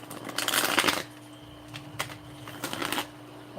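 Tarot cards are shuffled by hand in quick papery bursts, one longer riffle followed by two shorter flurries close to the microphone, with no talking.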